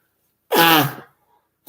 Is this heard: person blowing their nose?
yes